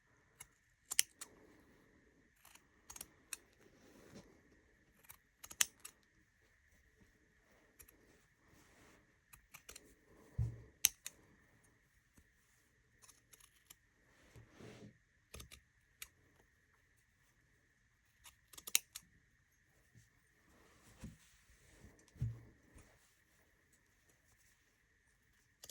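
Scissors snipping through knitted contrast-colour stitches along a centre line, a scattered series of faint, short cuts and rustles in a very quiet room.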